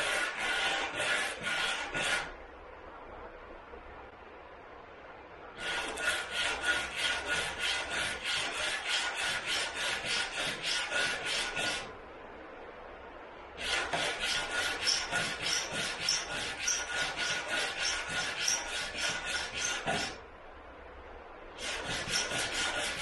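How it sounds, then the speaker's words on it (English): Sandpaper rubbed by hand over banjo wood, in long runs of fast, rhythmic back-and-forth rasping strokes broken by short pauses, close-up and steady, with no voices. "Now I'm going to sand this probably down to the bottom of where these feet stick out."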